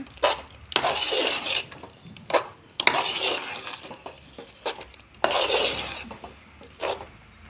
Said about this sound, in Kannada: ಸ್ವಲ್ಪ ಮಸಾಲೆ ಅದು ಹಸಿ ವಾಸನೆ ಹೋಗೋವರೆಗೂ ಹುರ್ಕೊಳ್ಳೋಣ.